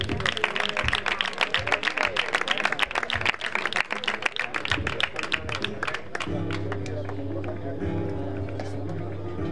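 A crowd claps in dense, brisk applause for several seconds at a national Doma Vaquera horse riding competition prize-giving, then it fades out, leaving a steady low hum and faint background murmur.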